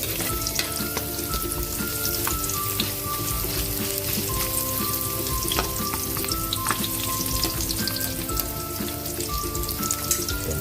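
Chopped garlic and onion fry in a hot pan with a dense, busy crackle that runs unbroken from start to end, close and fairly loud, with faint tonal background underneath.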